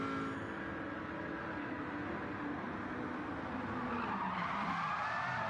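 A race car skids toward a tyre wall in a racing video game, a steady loud screech of tyres over engine noise with no talk.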